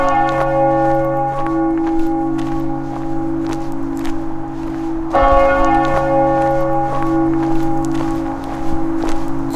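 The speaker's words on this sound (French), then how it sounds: "la cloche a duré peut-être 10 minutes, un quart d'heure" A church bell rings in a mountain village near Les Houches on the Tour du Mont-Blanc, with loud, sustained, resonant strikes whose tones overlap and hang in the air; one strike partway through is stronger than the rest.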